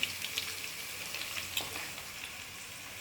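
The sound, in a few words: bay leaf sizzling as it is added to the pan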